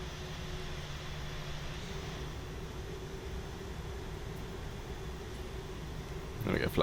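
A British Airways Boeing 787-9 in the Prepar3D flight simulator taxiing fast, its engines a steady, droning hum with a low tonal whine that swells slightly at the end.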